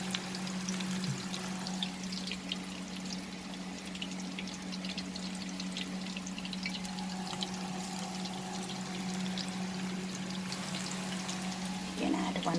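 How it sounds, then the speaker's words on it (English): Batter-coated potato wedges frying in hot oil give a steady, even bubbling sizzle with a constant hum underneath, holding at one level throughout the stretch. "Just coat it and then drop it in the hot oil."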